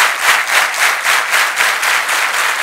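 A crowd at a Pune panel discussion claps harder, a dense, loud and sustained round of applause pulsing in regular swells, with no voices over it.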